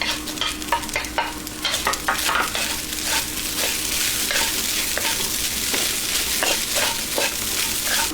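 Chicken liver sizzles steadily in a hot pan for chicken sisig while a utensil stirs and scrapes it in repeated clattering strokes, fairly close and continuous, with no talking.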